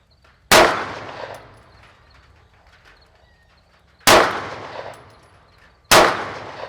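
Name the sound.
handgun gunshots hitting steel targets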